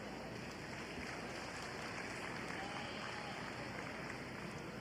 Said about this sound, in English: Let's give all the showmen out here a big round of applause.